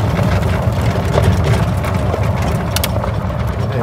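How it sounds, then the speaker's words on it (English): A golf cart driving at night, a steady low motor rumble with road and wheel noise rolling continuously throughout, fairly close and even in loudness. "So we're driving in our golf cart at night"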